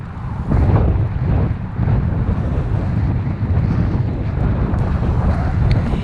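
Strong wind on the Lincolnshire coast buffets the microphone in loud, gusty blasts, a continuous roar rising and falling with no voices.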